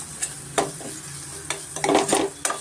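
Chana curry ingredients fry in a pan under a low sizzle, cut through by several sharp scraping strokes of a spatula against the pan, the strokes coming in quick bursts.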